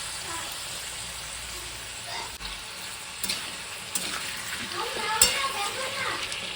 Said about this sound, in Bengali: আগে এঁচড়টা একটু ভাজা ভাজা হয়ে যাক